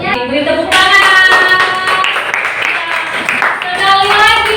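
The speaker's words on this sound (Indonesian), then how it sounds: "selanjutnya beri tepuk tangan" A classroom of students applauds together, steady clapping filling the room for several seconds with children's voices and chatter mixed in throughout.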